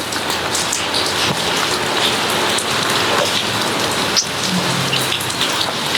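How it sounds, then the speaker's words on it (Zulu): Steady rain falls on surfaces outdoors with a dense, continuous patter. A low rumble of distant thunder may lie underneath. No one speaks. "ngibuka imvula, ngibuka imvelo, i-nature"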